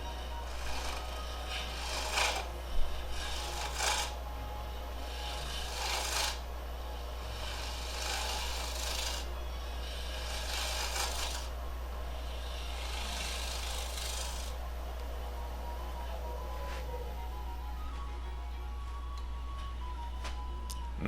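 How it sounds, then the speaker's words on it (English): Wood is scraped and rasped steadily on a lathe while the top of a wooden pipe bowl is faced off, the cutting arriving in repeated bursts over a constant low motor hum. "Now I'm going to come around and face off the top."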